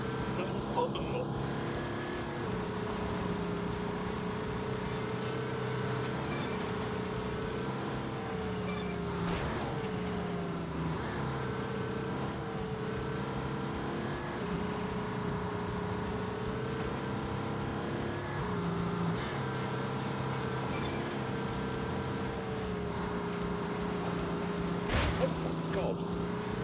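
Car engine droning steadily in The Grand Tour video game, a four-wheel-drive car on Michelin Cup tyres, with continuous mid-pitched engine tone that shifts slightly in pitch, under game sound and commentary.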